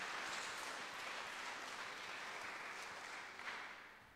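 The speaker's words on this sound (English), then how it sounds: "Can we just give them a big round of applause again?" A church congregation at a Sunday service applauds, producing a faint, even wash of clapping that holds steady and then tapers off at the end, with no talking over it.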